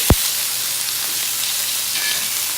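Chicken pieces searing in a hot pan after being flipped, a steady close sizzle with a sharp clack at the start and a faint steam hiss rising near the end.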